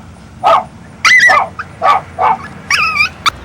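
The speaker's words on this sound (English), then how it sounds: "Is that your dog there?" A dog barks in a series of sharp, loud, close barks, spaced irregularly, with a couple of higher whining yelps mixed in.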